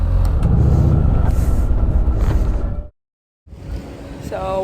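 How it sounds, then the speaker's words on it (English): Engine rumble aboard a river ferry crossing the Volga, steady and loud, with a brief cutout partway through before the low drone returns. "Alright, we're on the ferry."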